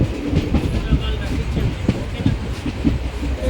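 The Seshadri Express running on rails near a junction between Bengaluru and Kakinada, a steady loud rumble with rhythmic clicks of wheels over rail joints, heard from on board.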